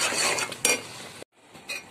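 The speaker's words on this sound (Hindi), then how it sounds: "अब मैं आपको इसे डिश आउट करके दिखाऊंगी" A spoon scrapes and clinks against a metal pot as cooked sarson ka saag is ladled out, with a brief pause before more scooping.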